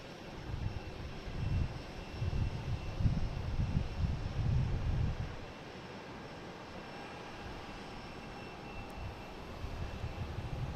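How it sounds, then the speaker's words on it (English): An American Airlines jet from Louisville arriving at Boston Logan, a faint, distant engine rumble that swells and then settles into a low steady drone. "next coming in is American Airlines coming in from Louisville"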